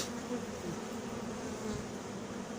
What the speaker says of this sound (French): Toutes ces abeilles.